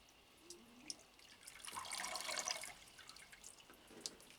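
Water poured onto potted orchid plants, a faint trickling and splashing that swells for a couple of seconds amid scattered soft drips, quiet and close.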